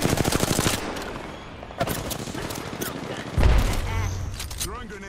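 In the Apex Legends game, an enemy squad fires on the player in bursts of rapid automatic gunfire: a long rattling volley at the start, sharp single cracks later and a heavy thump near the end, with a voice partly heard.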